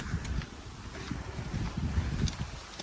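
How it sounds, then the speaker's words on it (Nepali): Wind gusts across a steep uphill hiking trail near Tai Tong, Hong Kong, buffeting the microphone with a constant low rumbling roar that swells and eases in short surges. "मजाको हावा चलिरहेको छ"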